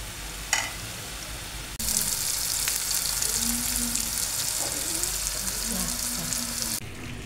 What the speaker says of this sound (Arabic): قطعت البصله والفلفل دروك نقليهم، والكورجيت راني نقلي فيها